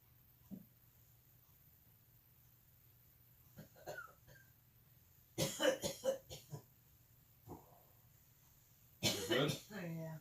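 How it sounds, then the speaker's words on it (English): A woman coughs after a hit of weed, with a few isolated coughs followed by two harsh bursts of hacking and throat clearing against a quiet background hum. "She coughed on the second hit."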